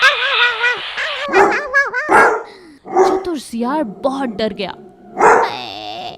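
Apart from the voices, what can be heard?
dogs barking while chasing a jackal in cartoon story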